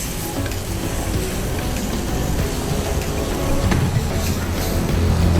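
Chicken and spices fry in a pan while being stirred, a steady close sizzle with faint scraping that swells slightly louder toward the end.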